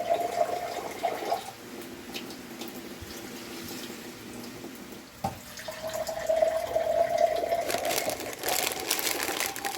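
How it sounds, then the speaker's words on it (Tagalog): Water runs and splashes into a cooking pot while making coconut-milk crab, pouring in two bursts with a brief pause between, close by and moderately loud. "So maglagay na lang ako ng tubig."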